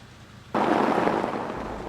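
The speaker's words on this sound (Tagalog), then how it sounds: "malakas na ulan na may kasamang kulog at kidlat" After a brief quiet moment, a sudden loud wash of heavy rain roars in, steady and dense, with a low rumble of thunder beneath it.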